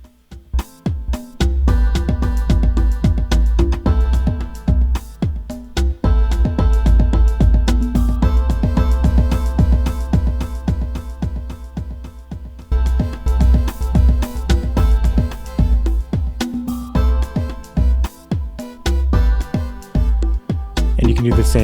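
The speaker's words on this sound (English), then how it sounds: "on send A, you'll hear the delay kick in" Electronic DJ track playing in Ableton Live with a delay effect on send A, loud steady beat with repeating kicks and echoing repeats throughout, no talking.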